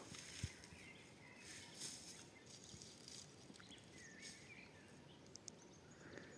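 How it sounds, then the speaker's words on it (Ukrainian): Birds sing in a village garden on an evening in early spring, with faint, scattered chirps and short calls over a quiet outdoor background, some soft rustling and footsteps nearby, and no talking. "Чуєте, як пташки співають гарно."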